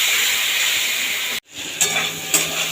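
Spices and turmeric with salt and a little water sizzle steadily in a pan, a loud continuous hiss that cuts out briefly, then resumes with a couple of stirring scrapes.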